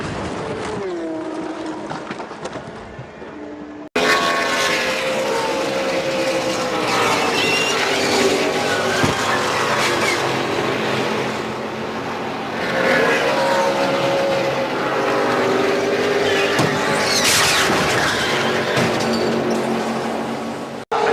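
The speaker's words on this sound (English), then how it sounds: "Nochmal die Wiederholung des Unfalls von Mike Rockenfeller." Replay of a race car crash at 320 km/h involving Mike Rockenfeller: loud, sustained motor noise and roaring with sweeping engine tones and squealing, briefly quieter at first, then a sudden jump into a dense, harsh wash of sound.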